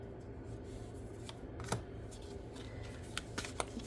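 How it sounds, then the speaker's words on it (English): Tarot cards being shuffled by hand, a soft continuous riffling with a few sharper snaps and clicks near the end, close and quiet without talk. "it's just really a matter of shuffling the cards around"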